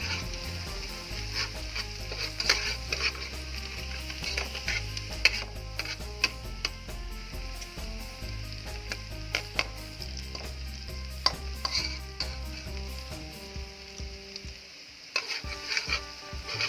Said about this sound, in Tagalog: Continuous lang ang pag-stir kasi para maiwasan yung pagkasunog ng bawang